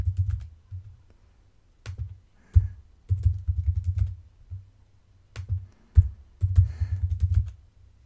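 Someone types CSS code on a computer keyboard in quick bursts of soft, close key clicks, separated by short pauses.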